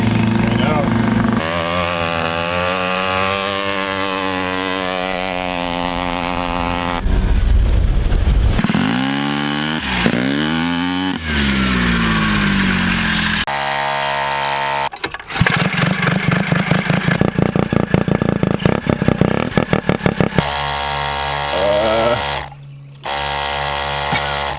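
A turbocharged rotary-engine ATV roars and revs hard while driving, the pitch climbing and dropping through gear changes with a buzzy, rapid pulsing. It stays loud and close throughout, with a brief dip near the end, and people talk over it.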